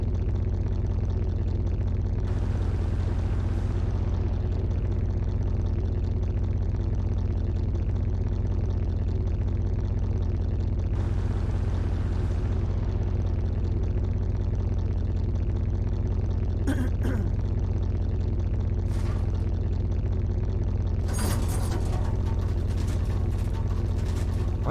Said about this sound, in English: This is a loud engine.